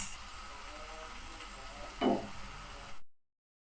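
Two medium chopped tomatoes sizzle in a pan for a red gourd and fish dish: a faint, steady frying hiss with one brief stirring rustle before it cuts off.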